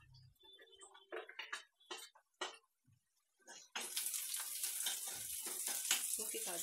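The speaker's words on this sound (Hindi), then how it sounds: "काजू को भी हल्का सा भूनना ज़रूरी है" Cashews fried lightly in a pan for shahi poha, with sparse clicks and small splashes at first, then a steady loud sizzle filling the background once the nuts hit the hot fat.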